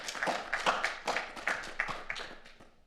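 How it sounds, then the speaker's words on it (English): A small audience at a PhD poster presentation session claps briefly: a few seconds of sparse, close handclaps that fade out quickly, no talking. "a warm applause for Alice"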